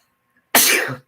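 A single sharp, explosive burst of breath, loud and close, lasting about half a second before cutting off into silence.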